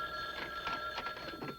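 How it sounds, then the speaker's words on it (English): An old telephone bell rings in several short bursts, indoors and fairly close, alone with no voices. "Phone. Where's the phone?"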